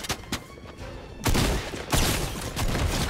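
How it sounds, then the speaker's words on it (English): Henchman gunfire in Fortnite, loud close bursts of rapid shots: a few sharp cracks at first, then two dense volleys lasting roughly half a second each, trailing into continued firing. "Was that a henchman shooting me?"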